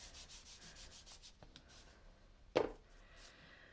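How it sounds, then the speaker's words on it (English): Embossing buddy pouch rubbed repeatedly over card before heat embossing, a quiet rhythmic brushing that repeats steadily, with one sharper knock partway through and no talking. "So, we now have some heat embossing to do. And I'm going to use my embossing buddy."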